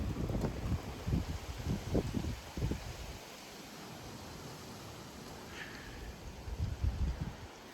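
Strong wind gusts with rain around, roaring in bursts of rustling and microphone buffeting, fading to a steadier hiss before another surge near the end.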